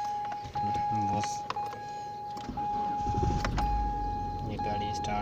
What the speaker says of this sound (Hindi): ये गाड़ी स्टार्ट हो गई है,